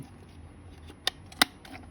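A Topico toy camera's shutter is tested before film is loaded, giving two sharp, close mechanical clicks about a third of a second apart in an otherwise quiet room.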